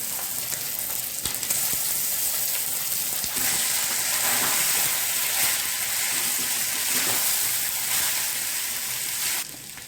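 Day-old cooked rice frying in a pan with cashews, a steady loud hiss and crackle that holds for the whole stretch with no voices.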